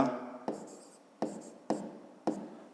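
A pen writes the sides of a triangle in a school math notebook. Soft, close scratching strokes come in four distinct bursts, spaced evenly with brief pauses between.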